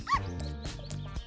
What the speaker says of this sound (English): Suddenly, there was a noise in the bushes. Oh, a dog.